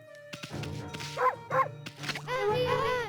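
A dog from the video game Okami gives several short yipping barks and whimpers, close and clear, over game music and effects.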